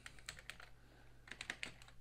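Quiet, fairly quick computer keyboard typing while entering C++ code, with irregular clusters of key clicks close to the mic and no talking.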